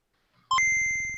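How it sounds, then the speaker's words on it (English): A short electronic computer beep sequence: a brief blip, then a sustained steady tone with a pulsing buzz underneath, loud and clean after a moment of near-silence. "Calculating computer activated. Computers. Beeps. Boops."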